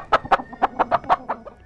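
A rooster gives a quick run of about eight loud, close, rhythmic clucking calls in under two seconds, with no talk.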